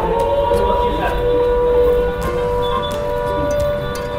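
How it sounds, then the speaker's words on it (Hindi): A factory siren sounds from a distance in a steady, sustained wail that holds a constant pitch throughout, with outdoor background noise underneath. "सायरन सुनाई दे रहा होगा शायद आपको"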